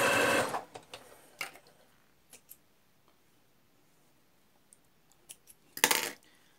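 A sewing machine runs a zigzag stitch along a fabric edge to imitate an overlock finish for toe socks. Two short, close bursts of stitching open and close the clip, with quiet faint clicks between them.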